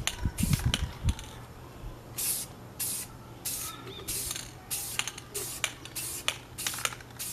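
Gloss coat sprayed onto a rifle and its stock in short, even passes: a string of close, hissing aerosol bursts, each about half a second, repeating steadily with brief gaps and no talk.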